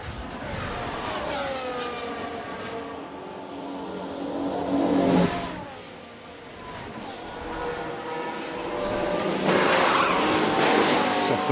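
A Formula 1 car in the management game F1 Manager 24 turns into the pits at the Chinese Grand Prix during a sprint weekend: engines whine and sweep down in pitch, with brief tyre scrub and a renewed rise in revs near the end.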